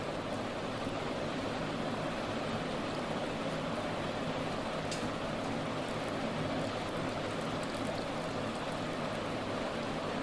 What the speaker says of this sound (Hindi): ये देखिए, पूरा पॉट कवर हो गया पानी से।